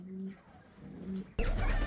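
Soft, low pigeon coos murmur twice at a distance, then a sudden burst of rustling or flapping noise cuts in.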